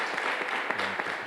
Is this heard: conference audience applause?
yes